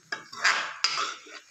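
Soya keema with green peas being stir-fried in a pan, heard as a few sharp metallic scrapes and clinks of a spoon against the pan with a soft sizzle underneath, close and fairly loud, with no voices.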